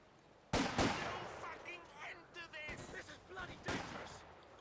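In the Company of Heroes 2 strategy game, infantry Bren light machine guns fire in several sharp, loud bursts, with battle noise and smaller shots crackling in between.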